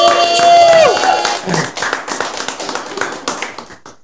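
People clap briefly, a short burst of scattered applause after a lively moment, then tapering taps and knocks with voices around.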